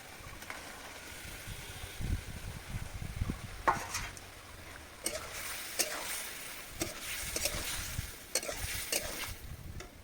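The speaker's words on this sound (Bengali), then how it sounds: "এবার মাছগুলো দিয়ে দেবো" Marinated small fish coated in yogurt, salt and turmeric go into hot spiced oil in a pan, giving a steady sizzle and frying crackle with occasional stirring and utensil clinks throughout.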